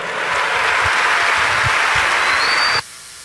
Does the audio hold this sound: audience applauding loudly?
yes